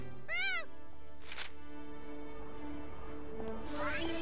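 A cat meows once, clearly and briefly, in the video game Gravity Daze 2, followed by soft ambient game sounds and a faint whoosh.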